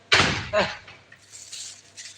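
A door pulled hard and slammed shut, a sharp close thud followed by a second knock and a faint rattle fading out, no talk over it.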